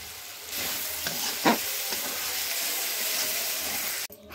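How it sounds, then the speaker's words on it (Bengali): Fish head frying in a large kadai on a clay stove, a steady loud sizzle with a few stirring scrapes, continuing evenly for several seconds before stopping abruptly. "এই যে ভাজতেছি, এদিকে মাথা মাছ রান্না করতে বসে গেছি উনানে।"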